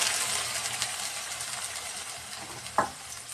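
Chopped banana blossom hisses and sizzles steadily in hot oil in a pan with garlic cloves and green chilies, a close, even frying texture with one brief clink near the end.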